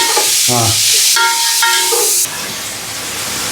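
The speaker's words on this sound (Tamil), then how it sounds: "வெங்காயம் வதங்கிடுச்சு வெங்காயம் வந்துச்சு ப்ரௌனாக இருந்துச்சு" Onions with tomato, green chili and salt sauté loudly in a pan, a steady close hiss and sizzle with brief tonal squeals from stirring in the first two seconds, then the frying settles into a softer hiss.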